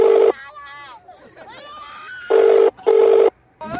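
A phone ringback tone sounds during a call, with three loud, evenly spaced electronic rings, between them a person talking and a swooping melodic sound.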